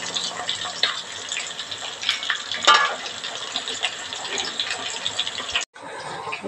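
Chicken pieces frying in a pan for a Kerala-style curry, a steady crackling sizzle with scattered pops and a brief stirring scrape, no talk.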